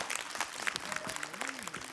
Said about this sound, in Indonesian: Tepuk tangannya dong Bu.